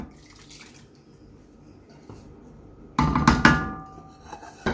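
Onion water cooked with chicken stock cube poured into a white sauce for broccoli pasta, a sudden loud splashing pour lasting a couple of seconds after quiet kitchen background, then tapering off.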